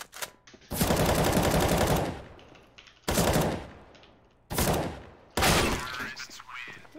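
Gunfire in the Counter-Strike match on Mirage, with loud bursts of automatic fire in several separate volleys and short gaps between them, sharp close shots with dense crackle and no talk over them.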